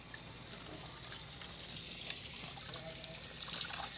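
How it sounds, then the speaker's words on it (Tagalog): Running water splashes over a raw tuna jaw, a soft, steady hiss and trickle with faint splashing at a street food stall in Cebu. "Una hugasan ni kuya ang tuna"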